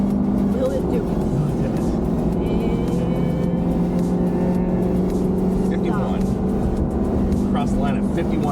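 A car engine starts and revs through acceleration in a loud, continuous, rising drone, close by, with people talking over it.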